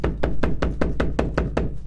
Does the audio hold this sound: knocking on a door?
yes